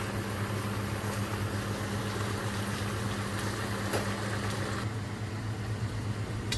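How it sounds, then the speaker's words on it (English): Chicken and vegetables cook and steam in a lidded pot, giving a steady, even bubbling hiss with a low hum, unbroken and without talk. "We'll put our lid on and let these cook for 30 minutes."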